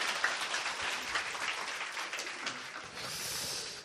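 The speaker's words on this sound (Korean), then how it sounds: "이 강신주 철학박사에게 박수 부탁드립니다." Brief, fairly faint audience applause at a Korean live philosophy lecture, a wash of clapping from the crowd that holds steady for a few seconds and thins out at the end.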